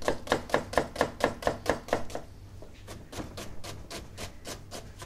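Brown onions chopped with a knife on a board: a quick, even run of about ten sharp, close chops, a brief pause, then lighter and fainter chopping, alone without talk.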